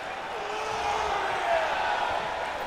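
Crowd cheering in the WWE 2K19 wrestling video game during a Monday Night Raw match, a continuous dense roar of the arena audience swelling slightly midway.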